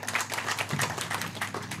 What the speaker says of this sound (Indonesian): Nih tepuk tangan untuk Mas Supebri.